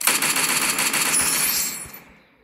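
Rapid automatic gunfire rattles in a mobile shooting video game played on a phone, a dense burst of shots lasting under two seconds before fading out.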